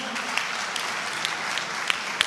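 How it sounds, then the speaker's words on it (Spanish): Audience applause at a poetry event: a dense, even wash of clapping from a crowd, with a few sharper individual claps standing out, steady throughout. "Aplaudan"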